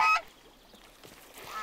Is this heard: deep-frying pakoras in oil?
no